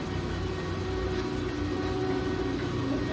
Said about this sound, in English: That's the backup compressor.